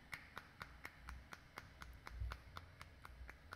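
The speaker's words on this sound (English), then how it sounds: "So now the clapping is only one key." A sampled handclap, triggered from a MIDI keyboard, repeats in quick, even succession, crisp and fairly quiet over a faint low hum.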